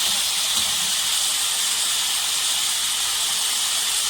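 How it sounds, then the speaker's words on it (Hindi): White chicken karahi frying in a kadai, giving a steady, loud hiss of sizzling oil that holds even and unbroken throughout, with no voices. "अब हम चिकन को अच्छे से फ्राई करेंगे।"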